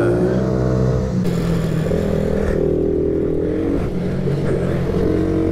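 Several mini motorbikes race on a track, their small engines droning loudly and continuously in a dense, buzzing pack with shifting pitch as riders rev and jostle close by.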